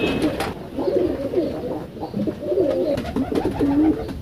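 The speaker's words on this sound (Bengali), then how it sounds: "ধরেন ধরেন কবুতরটা ধরেন, খাবার দিবেন।" Pigeons cooing inside a loft, repeated low throaty coos overlapping at close range, with faint handling noises in the background.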